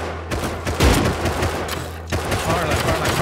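Rapid bursts of gunfire in the survival game Rust, dense overlapping shots and volleys filling the moment, loud and close, with voices talking over them.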